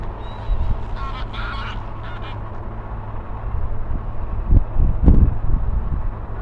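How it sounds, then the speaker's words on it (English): Canada geese honk in a loose series of calls as they fly in, moderately close over a steady low outdoor rumble, with a louder burst near the end. "a few Canada geese just flying in"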